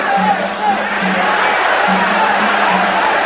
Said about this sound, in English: The crowd exhorting Escalera on.